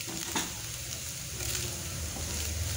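Onions and boiled potatoes sautéing in a pan for potato samosa filling, a steady soft sizzle with occasional scraping stir strokes, close and fairly quiet, no talking.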